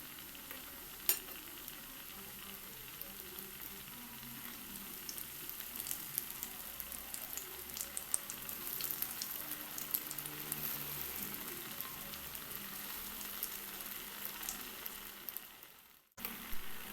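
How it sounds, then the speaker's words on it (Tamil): Bread sausage snacks frying in hot oil in a kadai, a steady soft sizzle and crackle with faint stirring sounds, continuous and close, with no talking. "கடாயில் எண்ணெய் நல்லா சூடான பிறகு ரெடி பண்ணி வச்சுருக்க பிரெட் சாசேஜை எண்ணெயில்"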